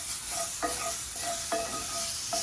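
Garlic sizzles in a skillet with a steady crackling hiss, broken by a few light stirring scrapes, moderately loud and without voices.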